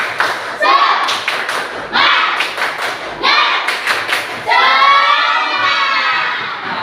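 A classroom of students does rhythmic group clapping, sharp bursts of hands and thumps in a counted pattern, mixed with loud children's shouting and chanting voices.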